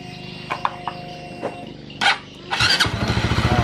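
A Honda CBR 150 motorcycle that had an ignition fault cranks with a few short starter bursts, then catches and settles into a steady, close, loud idle with a throbbing rhythm.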